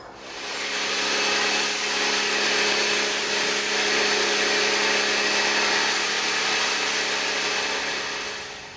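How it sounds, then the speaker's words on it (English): A power washer sprays down a Toyota Celica after snow foam, producing a loud, steady hiss of water close by with the pump humming underneath throughout. "then I'll give it a hose down with the power washer"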